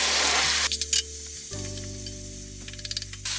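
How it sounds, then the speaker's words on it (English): Onions and garlic for a Greek beef stifado hit a hot pan with a loud hissing sizzle, a few stirring clatters over a steady low hum, then the frying settles into a softer continuous crackle. "We're going to add our onions and garlic."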